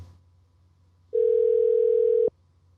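A single steady telephone tone sounds while a call is being placed, holding for about a second before cutting off abruptly, clear and alone over a faint low hum.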